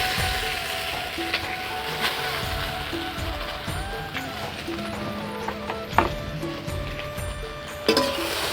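Chow mein noodles fry in a wok at home, with a continuous close sizzle and irregular clattering taps and knocks from tossing, plus a couple of louder bumps.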